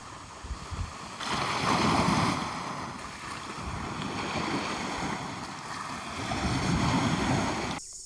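Waves wash onto a beach on the Abel Tasman coast in New Zealand, a broad rolling surf roar that swells and eases in surges, mixed with wind buffeting the microphone.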